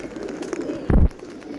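Pigeons coo nearby as they are fed outdoors in the rain, one short low throaty coo standing out over soft background noise.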